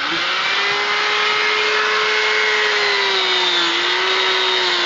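A rotozip rotary tool fitted with a worn, burr-laden wire brush scrubs brake parts clean. It gives a continuous high, buzzing whine that holds steady and close for the whole five seconds, with no voices.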